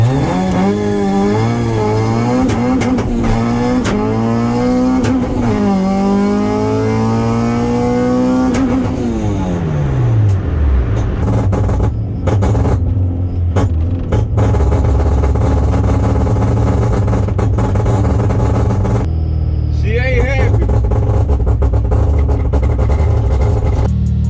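A motor-swapped Honda Civic Si with an H2B engine swap, a car that keeps shutting off at random, idles and revs loudly up close, its pitch climbing and sweeping in repeated throttle blips before settling into a steady, rough idle.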